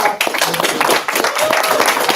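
Scattered hand clapping at a community planning group meeting, a short burst of individual claps from a modest crowd honoring board members, uneven and fairly close, with a brief dip partway through.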